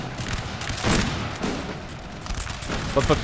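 In the Napoleonic: Total War III multiplayer battle, infantry including Württemberg grenadiers fire ragged musket volleys, a dense rattle of overlapping shots and booms at mid distance, with someone talking over the gunfire.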